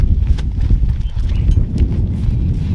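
A bullock cart rolling along on a farm, with loud close hooves clopping in a steady rhythm over a low rumbling of wheels and movement.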